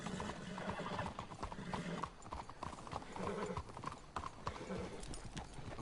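Horse hooves clip-clopping steadily in Red Dead Redemption 2, several horses walking close by in a continuous rhythmic patter, with an occasional whinny and faint background game sounds.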